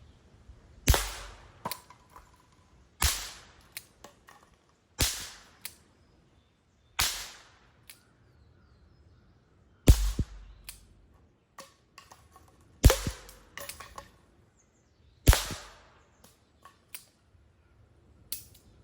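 Six sharp cracks of wax bullets fired from a S&W 686 revolver at bottles about 5 or 6 yards away, evenly spaced every two to three seconds, each followed by faint clicks and small impact taps.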